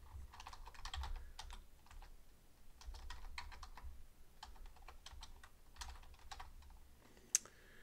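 Someone types on a computer keyboard in quiet bursts of quick clicks, with short pauses between runs of keystrokes and one sharper tap near the end.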